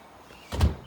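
A building door opens with a single dull thunk and a brief rattle partway through, moderately close against quiet background noise with no talking.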